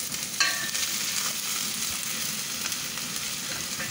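Chopped onion fries in a pan for chicken kadai, giving a steady close sizzle with a brief clink near the start and faint stirring throughout.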